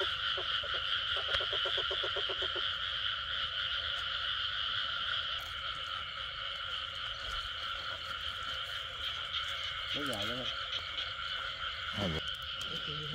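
Frogs croak at night in a steady, insect-filled chorus, with bursts of rapid pulsed croaking close by early on and later a few warbling calls rising over the constant high drone.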